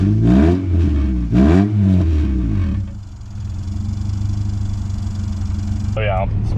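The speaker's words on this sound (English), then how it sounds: "Just constant drone from the exhaust." A high-mileage Honda Prelude at 343,000 miles hums along with a constant low exhaust drone, steady engine noise that follows someone speaking at the start.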